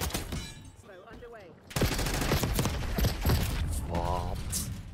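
Video game gunfire erupts in a heavy burst of rapid, loud shots after a brief quieter stretch, with clattering mechanical sounds and a person talking partly over the shooting.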